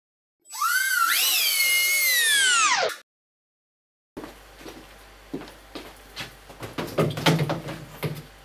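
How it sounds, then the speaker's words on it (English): A power drill whines up in pitch for a few seconds driving screws into shower stall panels and stops, followed by softer clattering, scraping and tapping of work noises. "A drill with a screw head will speed up the process."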